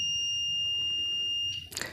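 Multimeter continuity buzzer on a refrigerator overload test, a steady high-pitched electronic tone held for about a second and a half before cutting off into a short burst of handling noise.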